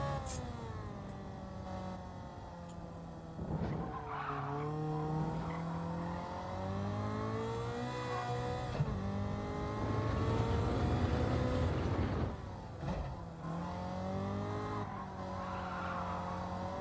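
A race car on stock tires in Gran Turismo 7 gives a loud, continuous engine whine that rises and falls with throttle, with gritty bursts of tire squeal and skidding as the car slides through corners.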